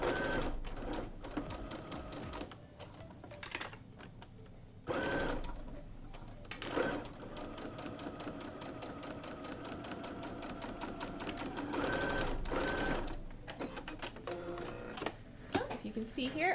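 A sewing machine stitches a fitted face mask with horns in bursts of steady mechanical whirring, interrupted by pauses and occasional handling clatter, with a voice talking over parts of it.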